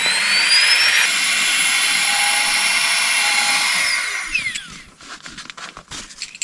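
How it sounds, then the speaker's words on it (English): An electric pump inflates an air mattress at a campsite with a loud, steady high-pitched whine, close by, rising slightly in pitch, then cutting off after about four seconds and leaving quiet rustling. "you hear everybody blowing up their air mattresses, that high-pitched whine"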